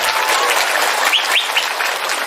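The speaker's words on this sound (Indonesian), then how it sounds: "Tepuk tangan untuk Pak Prabowo" A large audience at an Islamic boarding school gathering applauds loudly and continuously, a dense crowd clapping with a few whistles or high cheers rising through it.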